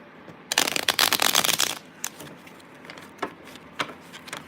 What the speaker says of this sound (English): I'm gonna do another shuffle.